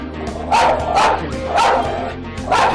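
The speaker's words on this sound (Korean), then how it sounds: "금방이라도 달려들 듯 맹렬히 짖는" A hostile dog in a house barks ferociously, about five sharp, loud barks in quick succession close by, with no talking over them.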